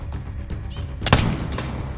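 A single loud muzzleloader rifle shot fired at an alligator in the Everglades, a sharp blast with a booming tail, following quieter movement sounds.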